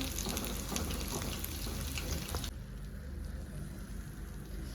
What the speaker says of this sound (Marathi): स्लो गॅस करून असं व्यवस्थित एक एक एक परतवून भाजून घ्या